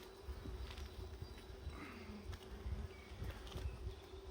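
Honey bees buzz steadily in an open hive during a UK brood inspection, a close, continuous low drone with occasional individual bees passing near.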